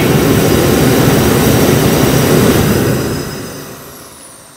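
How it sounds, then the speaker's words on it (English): A Bullet kerosene shop heater's blower roars with a loud, steady rushing noise up close, then winds down and fades over the last second or so; no voices. "That's what heats up something this big that quickly is the blower. That's what's making the noise."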